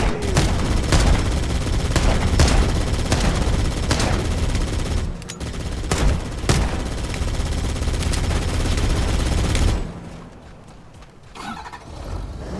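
Rapid bursts of gunfire and explosive blasts from a 4K Unreal Engine 5 remake of the Halo campaign, loud and dense for most of the stretch, then dropping away to a quieter ambient tail near the end.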